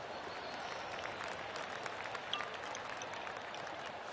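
Golf crowd applause in a video game, a soft, even patter of many hands clapping at a distance, steady throughout without voices.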